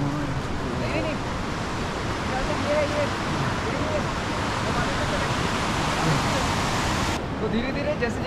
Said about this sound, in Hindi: आपको हमारे एग्जैक्ट बगल से आ रही होगी गंगा नदी के बहने की आवाज़